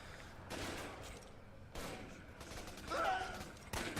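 Gunfire in the video game Raven Squad, bursts of rapid shots in several clusters with a sharper blast near the end, moderately loud in the game mix.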